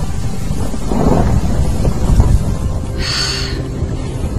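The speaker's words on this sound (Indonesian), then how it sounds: "saat itu sedang turun hujan sangat lebat" A film scene carries heavy rain pouring down steadily, and a deep roll of thunder swells and fades in the middle of the downpour, with no speech.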